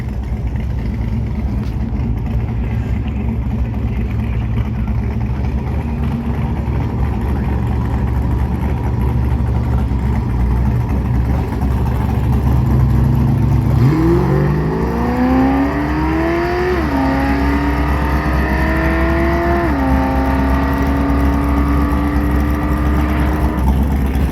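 A tuned race car engine running an old tune bought from another car, at Atmore, holds a steady low idle, then revs loudly and repeatedly in rising, stepped bursts before settling into a higher hold.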